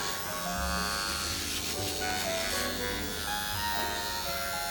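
Nano hair stroke PMU machine for permanent makeup practice, running with a steady electric buzz and faint whine, close and continuous for the whole stretch with no talk.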